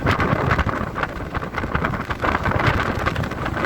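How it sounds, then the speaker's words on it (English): Gusty wind buffets the microphone in uneven, rumbling bursts, loud and close, with no voices present. "And it is definitely windy today."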